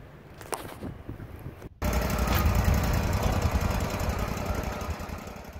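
A sawmill cuts through a black walnut log: a loud, steady engine-driven roar of the blade biting the wood, which starts abruptly after a brief quiet gap and then holds at full volume.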